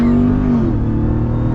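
A 2021 Ram TRX launching hard from 3,500 RPM, its engine roaring loud and close as the pitch climbs through a single brief pull.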